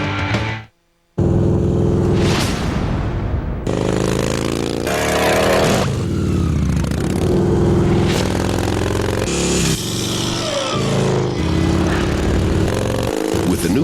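A 2002 Victory cruiser motorcycle with a Freedom V-twin engine, loud and close, revving repeatedly in sharp bursts after a brief silent gap, with a clattering mechanical edge.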